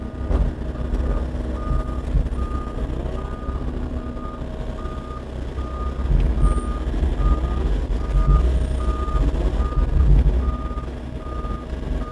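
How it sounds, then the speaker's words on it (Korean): A 2018 Volvo EW60E wheeled excavator on 03 tyres drives along with a steady low engine rumble while its reversing alarm beeps in a regular repeating pattern, close and clear throughout. "차를 이제 띄워서 주행도 한번 해보겠습니다."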